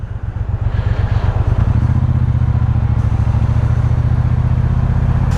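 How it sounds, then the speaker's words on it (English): A Triumph Speedmaster motorcycle engine revs close by with a deep, loud burble. A rapid throbbing pulse starts, builds after a moment, then holds steady. "It's very tempting to just rev it all the time"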